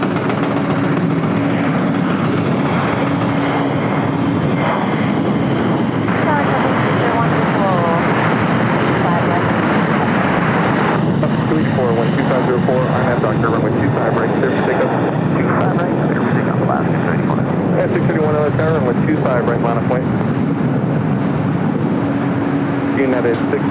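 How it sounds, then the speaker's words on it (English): United Boeing 777-200 airliner pushing back at LAX, a continuous loud engine roar and airport rumble, with a person talking over it throughout. "Another United pushing back."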